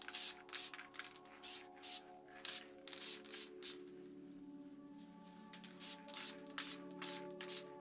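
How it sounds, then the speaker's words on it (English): Short bursts of spray paint hiss from a can whose caps are spitting rather than spraying smoothly, in an uneven rhythm, close and crisp, with a steady background hum between the blasts. "All I'm going to do is just spray it out of the cap"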